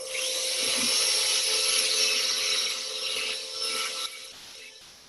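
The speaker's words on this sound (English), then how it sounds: "I'll show you what I mean as I grind a little bit further." A small roll-up abrasive disc on a right angle drill grinds steadily across a hobby workpiece, a bright continuous high whine with a steady tone, close and fairly loud, easing off near the end.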